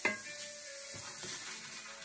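Chhana, fresh cottage cheese, fries in a pan over low to medium heat, a steady soft sizzle with a few light clinks and stirring scrapes, close and even throughout.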